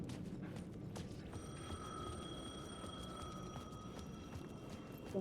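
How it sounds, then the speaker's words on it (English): A telephone rings with a faint, steady electronic tone over a low ambient background, sounding distant and muted rather than close. "phone was ringing."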